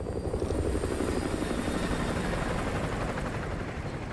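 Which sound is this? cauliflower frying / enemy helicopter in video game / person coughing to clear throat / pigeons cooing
enemy helicopter in video game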